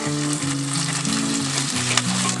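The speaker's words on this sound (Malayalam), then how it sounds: "അപ്പം ഇത് ഞാൻ നല്ലോണം വഴറ്റണം." Gobi manchurian sautéing in a pan with garlic, a steady, loud close-up sizzle of frying with soft stirring scrapes and no talking.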